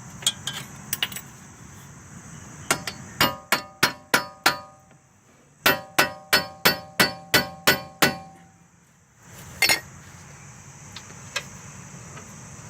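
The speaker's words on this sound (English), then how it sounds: "Smack it with a hammer." Two rapid bursts of sharp, ringing metallic hammer blows, about seven strikes each, then a final clank, close and loud against a quiet hum, as a hammer strikes a spindle part on a 2009 Toyota Camry.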